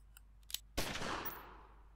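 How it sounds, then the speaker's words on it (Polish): A couple of faint clicks, then one sharp gunshot that rings out and fades over about a second, in the video game Omerta: City of Gangsters. "Precyzyjny strzał."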